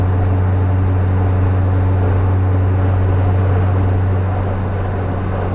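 A first-generation Kia Sportage cruises in fifth gear along a curvy road, its engine and road noise forming a loud, steady low drone heard from inside the cabin, with no talking.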